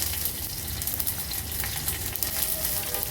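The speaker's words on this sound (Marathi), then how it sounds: "फोडणी छान तडतडली" Tempering of green chillies, curry leaves, crushed garlic and asafoetida crackling in hot oil for kadhi, a steady dense sizzle with small pops running throughout, close and fairly loud.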